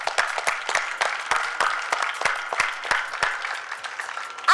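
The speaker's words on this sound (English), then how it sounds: "this definitely calls for a huge round of applause" A small school audience claps after a class presentation, with scattered, uneven hand claps of modest loudness continuing throughout, without any talking.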